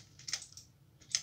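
Computer keyboard keys tapped during a game, a few quick clicky strokes in short bursts, close and fairly quiet with no talk.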